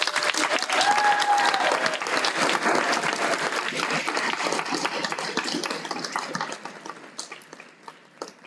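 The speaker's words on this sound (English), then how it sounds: "please join me once again in applauding the next generation of business and industry professionals" Audience at a signing day ceremony for business and industry students breaking into loud sustained applause, many hands clapping densely before gradually thinning and fading out.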